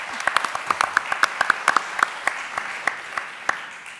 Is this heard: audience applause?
yes